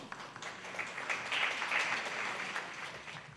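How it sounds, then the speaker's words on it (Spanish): Conference audience at a national real-estate law congress applauding a speaker, a soft wash of clapping that swells in the middle with a few voices mixed in, fairly faint and distant. "El aplauso correspondiente para él."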